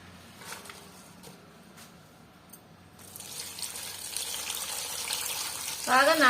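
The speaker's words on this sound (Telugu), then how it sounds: "ఇదంతా ఆకు శుభ్రంగా నీళ్ళలో వేసి బాగా ఉప్పేసి కడుక్కుందాము" Gongura leaves being washed in salted water: quiet handling noises at first, then a steady running-water wash swelling up, with a brief squeaky rubbing sound near the end.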